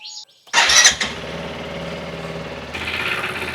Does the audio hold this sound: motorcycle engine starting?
yes